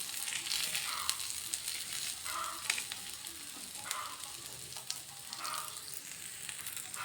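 Onions frying in oil on a dosa pan for a crunchy onion dosa, a steady close sizzle with crackling pops and periodic scraping stirs, no voices.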